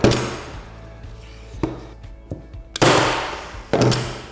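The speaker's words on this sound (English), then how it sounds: "Bang a staple in." A staple driven into stretched canvas over a wooden stretcher frame while stretching a canvas by hand, heard as a few sharp percussive bangs, the two loudest near the end, close and clear with no talking.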